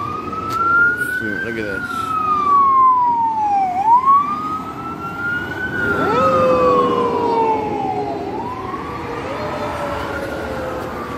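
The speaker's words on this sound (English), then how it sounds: "There's an ambulance" An ambulance siren wails loudly nearby outside a Chipotle restaurant, its pitch sweeping up and down in long slow cycles, with a voice speaking briefly over it.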